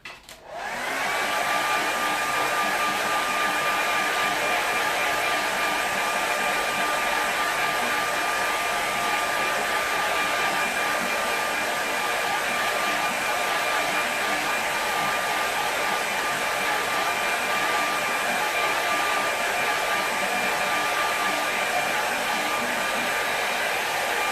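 A hair dryer switches on and blows in a constant, loud, steady whir with a high whine throughout, drying a watercolour painting up close with no talk.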